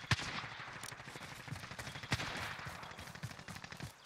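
Rapid bursts of gunfire in the video game Warzone battle royale crackle and pop continuously at moderate distance, with scattered sharper shots over a dense, noisy background.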